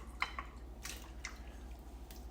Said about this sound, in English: Pouring that in there, including the juice